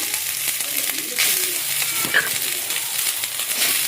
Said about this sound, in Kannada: ಅದನ್ನು ಫ್ರೈ ಮಾಡ್ಕೊಳ್ಳೋಣ. ರೈಸ್ ಹಾಕ್ಕೊಂತ ಇದ್ದೀನಿ.